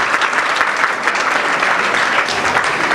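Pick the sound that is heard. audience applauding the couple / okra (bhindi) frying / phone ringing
audience applauding the couple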